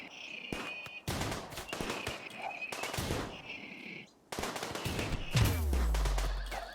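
Rapid bursts of gunfire in RimWorld, a top-down colony sim, rattle in repeated volleys across several seconds, with a brief lull midway and a deep thud near the end.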